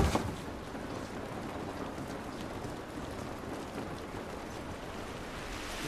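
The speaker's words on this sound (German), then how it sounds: "Dieser Regen ist nicht gut für uns." Rain falling in the video game The Last of Us Remastered, a dense, steady hiss of drops on surfaces that runs unbroken from start to end, with no speech over it.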